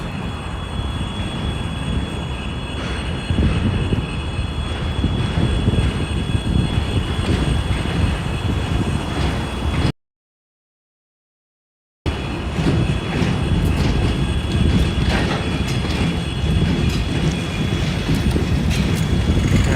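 A train rumbles steadily past up close on Prospekt Stachek, St Petersburg, a dense continuous roar of wheels and cars lasting the whole stretch apart from a brief gap.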